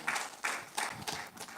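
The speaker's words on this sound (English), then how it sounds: "A round of applause for Mr. Kenneth Chibuzo." Brief scattered clapping from a small audience at a summit gathering in honor of Mr. Kenneth Chibuzo, several quick bursts at a moderate distance, fairly faint and thin.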